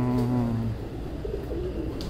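A pigeon, a large prized bird with golden eyes, coos nearby in low repeated murmuring tones that fade after the first second, leaving a soft ambient background with faint chirps.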